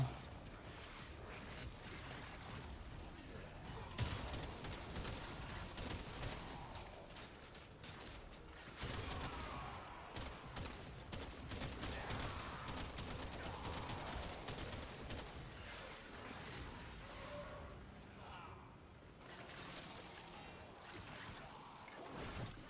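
Cedo shotgun fire in the video game Warframe: repeated blasts and mechanical clacks under a dense, continuous wash of game noise that stays loud throughout, with no talking.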